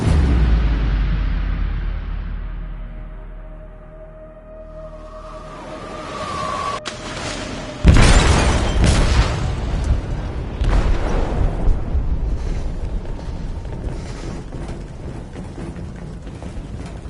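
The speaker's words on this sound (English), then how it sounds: "They detonated an explosive in the hold." An explosive detonates in a ship's hold in the video game Detroit: Become Human: after a low rumbling build-up, a loud, sudden boom erupts and gives way to a sustained, roaring, debris-filled rumble.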